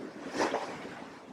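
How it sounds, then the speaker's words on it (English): Ocean waves rolling past a sailboat in the Roaring Forties after a gale: a brief, soft wash of surf swelling and fading under wind noise, distant and low in level. "watching some waves go by"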